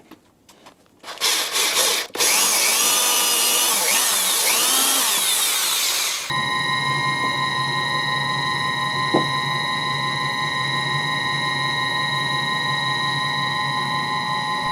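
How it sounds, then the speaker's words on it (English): A power tool grinds against material for a few seconds, then a drill press with a slipping pulley hums steadily with a constant motor tone, running alone without voices. "the pulley, not the belt, on the drill press is slipping"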